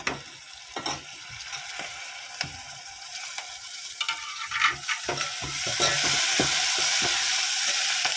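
Onions with turmeric, curry leaves, ginger-garlic paste and tomato fry loudly in a pan for a potato curry, a steady close sizzle broken by repeated scraping and stirring clatters that swell into a dense continuous hiss.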